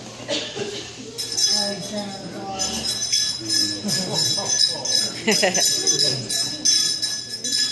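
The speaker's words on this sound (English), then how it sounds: "The bells are to wake the spirit up." Small bells on a grass dancer's outfit jingle and clink in a busy, continuous shimmer during a Northern Plains grass dance demonstration, with people talking in the background throughout.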